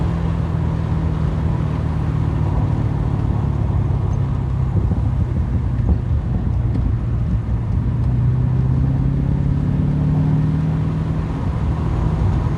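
A Porsche 944 with an LS V8 engine swap pulls hard down a road, its deep engine drone loud and steady inside the car, rising gradually in pitch under acceleration without any speech.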